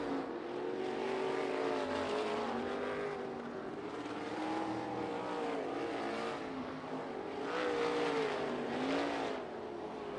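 Sprint race cars roar around the Bubba Raceway Park oval in a Top Gun Sprints race, engines wailing and rising and falling in pitch as the cars circle the turns, loud and continuous throughout.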